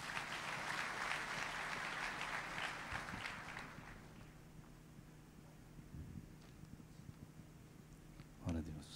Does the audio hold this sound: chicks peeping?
no